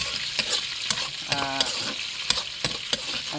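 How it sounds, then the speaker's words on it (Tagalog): Onions fry in a pan with a soft, steady sizzle. Sharp spatula scrapes and taps repeat close by at an uneven rhythm. "Hintayin ko lang na medyo mapusyaw ang sibuyas kasi hindi pwedeng masunog"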